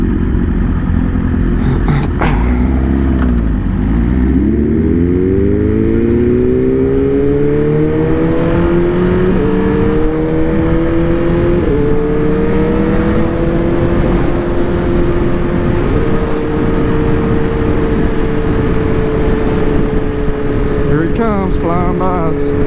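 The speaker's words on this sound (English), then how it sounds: "Well, there goes a Porsche." A Porsche accelerating past near a cars-and-coffee meet, its engine note sweeping down as it passes close, then climbing through several gear shifts into a loud, steady high-revving drone while people talk.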